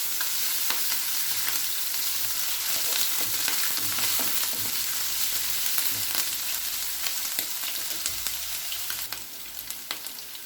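Steady hissing sizzle of ginger-garlic paste frying in hot oil, with occasional crackles and light stirring scrapes, close and continuous throughout.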